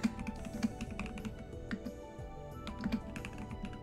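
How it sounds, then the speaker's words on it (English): Rapid tapping on a computer keyboard with uneven bursts of keystrokes, close and fairly quiet, with no voices over it. "I was typing and I wasn't actually typing in the field yet"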